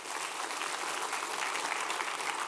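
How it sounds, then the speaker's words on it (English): Seminar audience applause, a steady, dense patter of many clapping hands at moderate distance, continuous and even for the whole short stretch. "Everybody give Rick a round of applause."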